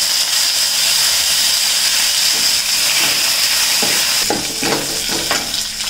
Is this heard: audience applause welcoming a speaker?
no